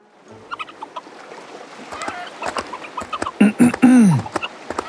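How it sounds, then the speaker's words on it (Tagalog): Chicken slaughtered as an offering for a new boat, giving loud distressed squawks and cackles late in the moment, over a faint busy outdoor background with knocks and small movements. "Nasaksihan din namin ang pagkatay ng manok na alay ni Nong Nato sa bago niyang bangka"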